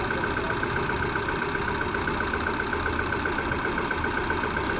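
A Hyundai Santro with a fault keeping its idle RPM too high sits idling, a steady moderate hum with a faint whine throughout, heard at a moderate distance.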